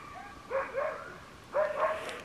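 Dogs, likely huskies on an outdoor trip, give two short bursts of yelping, whining barks, near and moderately loud, separated by a brief pause.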